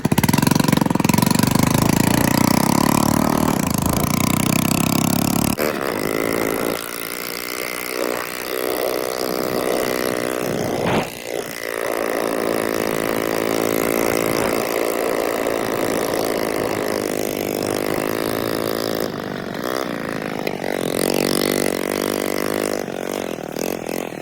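A Toyota 1UZ V8 engine running after sitting unused for years, a loud steady mechanical roar close by, with a brief blip near the middle and no talking.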